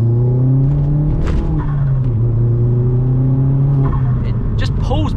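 A Vauxhall Astra VXR pulls hard in second gear, its engine droning and rising in pitch with a deep, close rumble, gear-shift breaks and a brief rev flare near the end.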